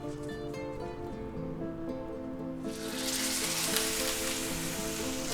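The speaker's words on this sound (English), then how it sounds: "we're going to sear that for about 2 minutes" A seasoned ribeye steak hits a smoking hot pan and erupts into loud, steady searing sizzle that swells midway and holds as a broad hiss.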